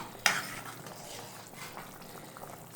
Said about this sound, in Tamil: நல்லா கொதிக்குது சிக்கன் ரசம்.